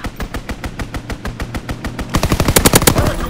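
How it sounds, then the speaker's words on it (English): Rapid bursts of automatic gunfire from a strafing run in a first-person shooter video game, a steady rhythmic volley that intensifies into louder, denser shots near the end. "Strafing run inbound."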